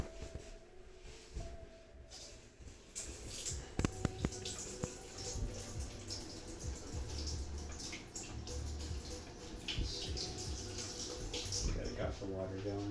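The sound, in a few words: tap water running to rinse rice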